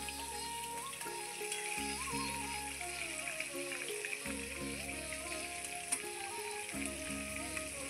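Pieces of rui fish fry crisp in hot oil for kalia, giving a steady, close sizzle with soft crackles that runs unbroken throughout.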